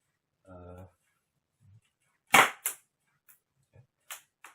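A harmonic mechanical clunk of cocking, then a sharp crack of a Sharp Innova spring air rifle shot followed by a quick echo, with small ticks afterward.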